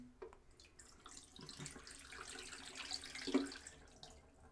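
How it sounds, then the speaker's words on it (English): Tap water runs steadily over black-and-white film in a sink after the stop bath, a soft continuous splash with a brief louder gush near the end. "I just like to run the taps on it for a bit"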